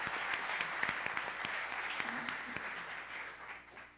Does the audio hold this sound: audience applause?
yes